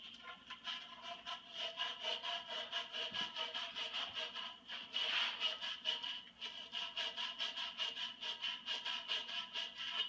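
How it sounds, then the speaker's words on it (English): Emery cloth is rubbed back and forth over the end of a metal pipe, making a steady rhythmic gritty rasp up close that continues without pause and with no talking. "now I'm going to sand it down with the emery cloth"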